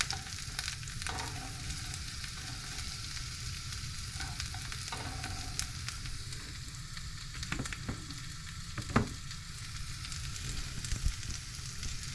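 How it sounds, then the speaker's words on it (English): Broccoli leaf and chilies fry in a pan on an RV stove, a steady, close sizzle running throughout with occasional stirring clatter and a few sharp pops. "Broccoli leaf in there, and I do want to add my little chilies. Alright, I'm going to cook this up on its own for a little bit."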